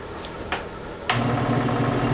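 A Harbor Freight 62519 scroll saw motor starts up and runs with a steady, fairly quiet mechanical hum and rapid chatter after a few faint clicks.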